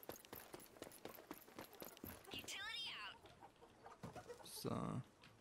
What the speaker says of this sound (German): Seit wann sind hier Hühner?